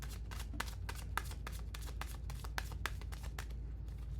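Tarot cards being shuffled by hand, a quick run of crisp riffling flicks in a steady rhythm, close but quiet, ending as the shuffling stops, with no talking.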